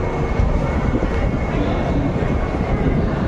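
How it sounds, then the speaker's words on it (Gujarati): A train rumbles loudly and continuously nearby at a railway station, a heavy, steady mechanical roar with no pauses. "આપણી ટ્રેન આવી ગઈ છે"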